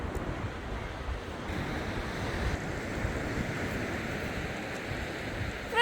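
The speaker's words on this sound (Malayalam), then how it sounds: "നല്ല കാറ്റുണ്ട് ഇവിടെ." Strong sea breeze blowing at a beach, a steady broadband roar of wind buffeting the microphone with surf mixed in, continuous and loud throughout with no talking.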